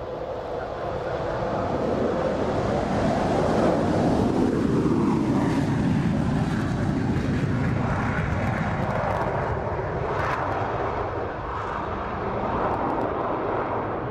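A classic aircraft at the Royal International Air Tattoo, a loud, steady engine roar that swells as the plane passes overhead and then slowly eases away, with some wind buffeting.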